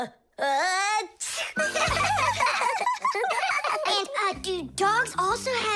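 A cartoon character lets out a quick sneeze amid lively animated children's-show dialogue, a short burst surrounded by chatter from young-sounding voices.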